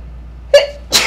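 A single close, loud human sneeze, a short sharp burst with a quick intake before it, in a morning talk-show studio setting.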